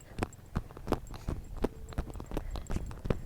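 A horse walks at a steady pace while being steered with the rider's legs, its hooves striking in a regular clip-clop rhythm, close and fairly loud, with no talking over it.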